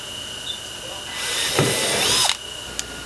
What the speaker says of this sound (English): Now, using a 7/32 drill bit, we're going to drill out the center void.